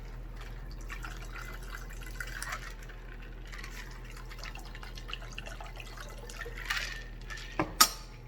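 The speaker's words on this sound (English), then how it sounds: "And I'm gonna pour it out." Shaken margarita poured out of a cocktail shaker: a soft, quiet trickle and drip of liquid running for several seconds, ending with a couple of sharp clinks near the end.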